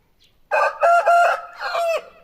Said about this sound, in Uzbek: Bu xo'roz sotiladi.